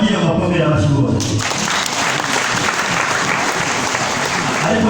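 Congregation clapping for a parish choir at a church gathering, a dense sustained round of applause following a spoken call from the front, loud and steady throughout.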